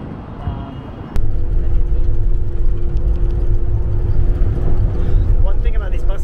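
Inside a local bus in Baghdad, a steady low engine drone and road rumble fill the space after a sudden jump in loudness, with a faint tonal whine running through it.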